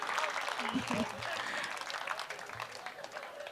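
Steady applause from a crowd at a Hindi poetry gathering (kavi sammelan) in Napasar fills the clip, with a voice briefly audible underneath.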